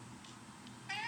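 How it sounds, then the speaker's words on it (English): A cat meows once near the end, a clear rising cry over quiet room background. "That's my cat, Dexter."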